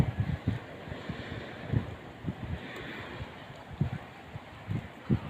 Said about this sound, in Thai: ที่นี่ก็ ใกล้ๆชายหาดนะคะ อากาศเย็นนะคะ อากาศมีลมลมแรงวันนี้